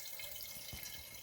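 Tap water steadily running into a large jug in a kitchen, a continuous close hiss and splash with a brief low gurgle partway through.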